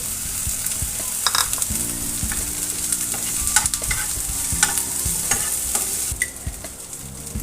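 Thin, long slices of jackfruit seeds fry in a pan, a close, lively sizzle with repeated scraping and clattering stirs throughout.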